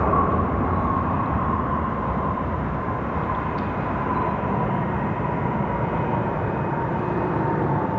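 A Boeing 777 airliner with large GE90 engines departs Sydney Airport, its engines roaring as a steady, loud, broad rumble with a high whine that holds throughout.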